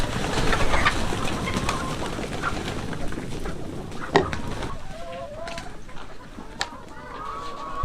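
Several chickens cluck and murmur close by over a busy rustling background, with a few sharp peeps scattered throughout.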